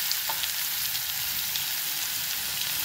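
Crushed garlic sizzles in hot oil with asafoetida for a tempering. The hiss is dense, even and continuous, close and moderately loud, with no voices over it.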